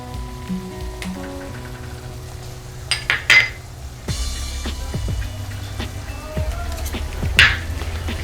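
Eggs go into a pan of frying homemade spice masala for egg rice, a soft sizzle under clattering of metal utensils and scraping, with a couple of louder splashy bursts as the eggs hit the hot pan.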